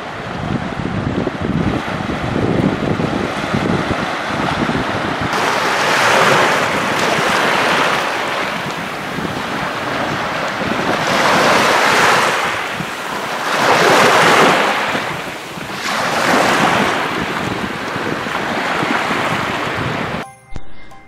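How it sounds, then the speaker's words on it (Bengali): Sea waves crash onto rocks at Saint Martin's Island in loud, rhythmic surges every few seconds, mixed with blustery wind noise on the microphone. "আপনার পাথরের উপর যখন সমুদ্রের পানিগুলো এসে ঝাঁপিয়ে পড়ে, ছলার ছলার যে শব্দ, যে গর্জন,"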